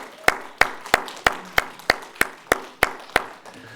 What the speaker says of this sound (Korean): 우리 큰 박수로 격려하기 원하고요.